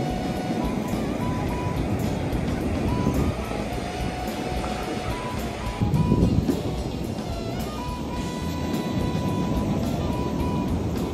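Ocean surf rolls in along Ormond Beach in Florida, a steady loud wash of waves with heavy wind buffeting the microphone and a brief swell of louder surge midway.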